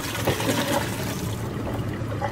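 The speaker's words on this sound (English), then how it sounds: "Then strain your asparagus and set aside." Water trickling and draining as soaked asparagus is strained, a steady wet splashing wash that thins out toward the end, close and alone with no talk.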